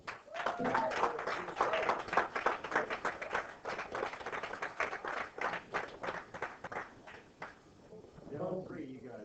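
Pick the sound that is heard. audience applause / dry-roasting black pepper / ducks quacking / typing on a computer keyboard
audience applause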